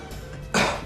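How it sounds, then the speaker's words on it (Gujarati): A person with a lingering viral infection gives a single short, harsh cough, close and alone after a moment of quiet. "તમને આટલી બધી ઉધરસ આવે છે ને તમે કહો છો કંઈ ખાસ નથી"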